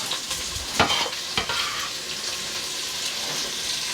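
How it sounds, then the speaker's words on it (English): Chopped onions and poblano peppers sizzle steadily in a pot for smoked brisket chili, a loud, close, continuous hiss with a few brief scraping stirs near the start. "All right, now let's get the onions and the poblanos."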